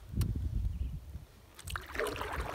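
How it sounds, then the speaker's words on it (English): A solo canoe is paddled across a lake in Algonquin Park, with soft, close paddle dips and gentle water sloshing and trickling, quiet and calm. "I'm just taking my time paddling through Islet to get to the portages."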